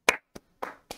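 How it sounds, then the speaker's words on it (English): Four sharp hand claps sound close and loud in an irregular rhythm, each short and crisp with brief silences between. "Clap it up."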